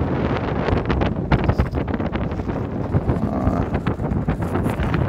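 Strong gusty wind buffets the microphone outdoors on a blustery, snowy morning, a loud continuous rumble with irregular thumps throughout and no speech.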